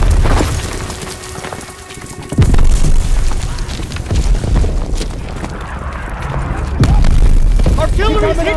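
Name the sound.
artillery shells exploding on the beach, from the video game Call of Duty WW2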